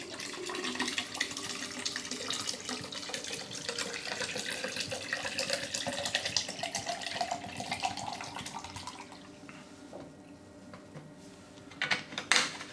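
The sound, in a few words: preservation liquid poured into RO filter tube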